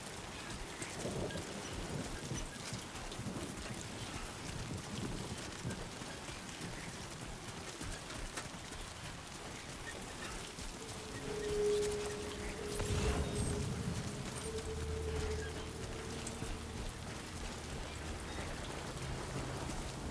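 Timefall rain in the video game Death Stranding 2 falls steadily and densely as a continuous hiss, swelling with a low rumble midway before settling back into the even downpour, with no voices.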